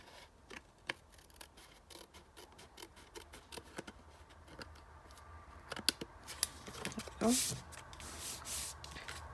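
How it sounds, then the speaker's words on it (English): Scissors trim the edge of a Halloween greeting card of card paper, with quiet crisp snips repeating at an irregular pace, close and faint over soft handling noise. "And I'm just going to trim this edge."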